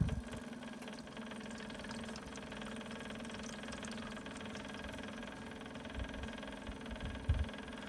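Mini excavator diesel engine running at a steady idle, a continuous low rumble with faint knocking vibration throughout and a couple of brief louder bumps near the end, no talking.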